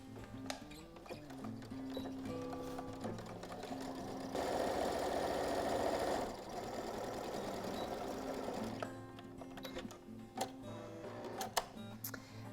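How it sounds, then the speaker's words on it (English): A sewing machine stitches the long side seams of a denim jeans piece with a close, rapid mechanical chatter, running in bursts with a louder stretch in the middle and quiet pauses between. "we're only going to sew down the sides"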